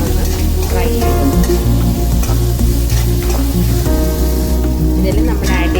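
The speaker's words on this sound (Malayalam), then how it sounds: "ഇതെല്ലാം നല്ലോണം ഫ്രൈ ആവുന്നവരെ ഒരു 2 മിനിറ്റ് നല്ലോണം ഒന്ന് ഫ്രൈ ചെയ്യും." Tomato, shallots, chillies, ginger and garlic frying in oil with cumin, a steady sizzle and stirring throughout with background music, and faint talk.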